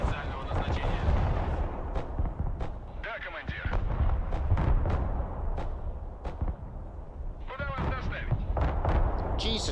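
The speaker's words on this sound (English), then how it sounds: "how much fucking artillery do they have?" Repeated artillery fire and impacts in the Broken Arrow war game, a dense barrage of sharp booms and cracks at irregular intervals over a continuous low rumble, with players talking over it.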